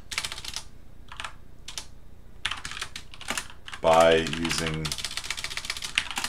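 Rapid clicking keystrokes on a computer keyboard run steadily under a voice explaining code, with a brief tonal beep partway through.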